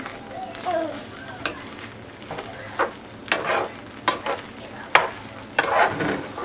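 Arroz con gandules rice being lifted and turned in a pot with a utensil, giving intermittent scraping and stirring clacks over a soft sizzle, with a voice talking in the background.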